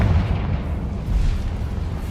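A Confringo fire-blast spell explodes in the Hogwarts Legacy video game, a dense, rumbling boom that stays loud across the whole short stretch with no talk over it.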